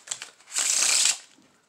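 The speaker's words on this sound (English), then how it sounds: "And we'll give it a shuffle." A deck of playing cards is shuffled during a card trick: a few light riffling ticks, then a dense half-second burst of cards flicking together, close and crisp.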